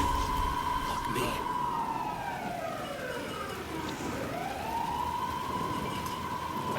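Police car siren in the video game Alan Wake 2, a wailing tone that holds high, sweeps down into a long low dip and rises back, sounding fairly close over a continuous engine-like rumble.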